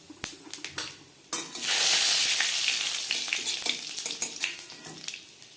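Panch phoron whole spices hitting hot oil left over from frying fish in a kitchen pan, a few sharp clinks and taps, then a sudden loud sizzle that settles into a steady crackling fry with scattered pops.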